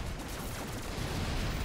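Dense, continuous battlefield gunfire in the toy-themed war game Toy Soldiers: War Chest, a steady rolling fusillade with low booms and no clear gaps between shots.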